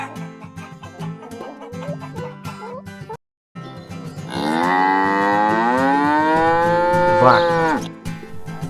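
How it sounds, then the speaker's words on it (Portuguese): A cow on a farm gives one long, loud, drawn-out moo that rises and then falls, after a stretch of clucking hens in the background. "Cow."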